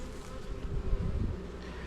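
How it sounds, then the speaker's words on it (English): Honeybees clustered in a hive during an inspection make a dense, continuous buzzing hum, close and steady, with no voices over it. "look at all these bees all clustered"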